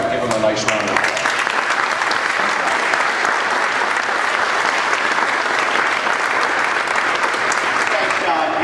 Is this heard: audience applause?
yes